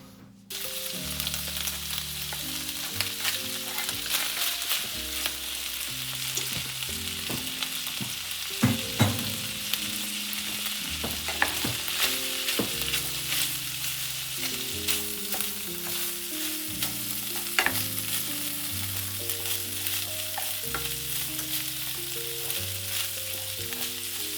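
Ham frying in a pan while butter or fat melts for a keto ham and turnip dish, a steady crackling sizzle with scattered pops and stirring scrapes throughout and no voices.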